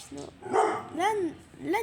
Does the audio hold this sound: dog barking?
yes